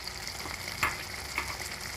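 Machine-minced keema fries with whole spices in hot oil, giving a steady close sizzle broken by two brief stirring scrapes around the pan, with no talking.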